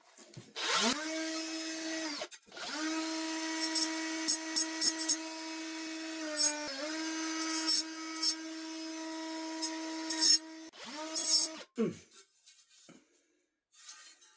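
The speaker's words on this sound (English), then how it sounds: "the Diablo blade will allow me to just shave it with the side of the blade" A Diablo 3-inch diamond blade on a small power tool spins with a steady high whine, briefly cut off and restarted, then shaves at material with uneven scraping bursts before winding down.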